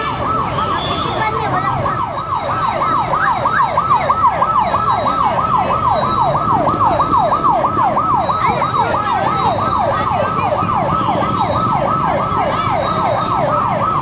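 A wailing fire truck siren at a fire rises and falls in a steady, rapid cycle, loud and continuous, with traffic rumble underneath.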